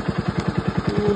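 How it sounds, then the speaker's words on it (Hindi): Motorcycle engine idling just after a cold start, its exhaust thumping in an even, rapid rhythm of loud pulses, close by and heard alone without talk. "थोड़ी कोल्ड स्टार्ट कर लेते हैं, ठंडी हो रखी है होगी, थोड़ी गर्म हो जाएगा इंजन तब चलाएंगे"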